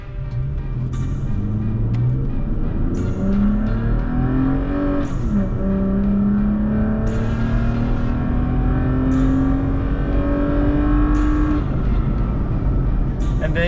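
A Toyota Tacoma with a MagnaFlow Overland exhaust accelerates onto a highway, engine droning loudly up through several gear changes with pitch climbing and dropping, while people talk over it.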